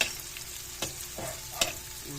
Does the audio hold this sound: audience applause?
no